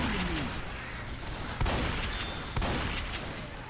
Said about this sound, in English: Someone is shooting the shit out of me.